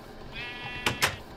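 Sheep bleating in the video game Minecraft on a cattle and pumpkin farm, a drawn-out bleat followed by two short sharp ones, fairly close over quiet background.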